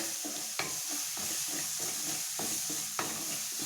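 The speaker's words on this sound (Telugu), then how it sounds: "ధనియాల పొడి, తగినంత ఉప్పు వేసి బాగా ఫ్రై చేసుకోవాలి." Egg masala frying in a pan with coriander powder and salt, a steady close sizzle with rhythmic stirring and scraping of a spoon throughout.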